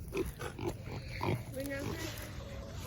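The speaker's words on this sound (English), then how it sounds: "We are down in the pig yard today, sitting down with our Idaho pasture pigs." Idaho pasture pigs grunt and oink close by in a pig yard, several short snorting grunts in an irregular rhythm, while a person talks softly over them.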